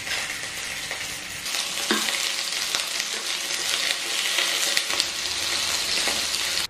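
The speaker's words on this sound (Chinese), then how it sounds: "油热后放入五花肉" Bite-sized pieces of pork belly fry in hot oil in a wok, giving a loud, continuous crackling sizzle with occasional sharper pops, heard close and without talk.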